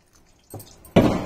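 A glass of water, about 200 ml, poured into rice-flour batter for eggless rose cookies (achu murukku). A soft splash starts it, then a louder, fuller pour near the end, with no talking.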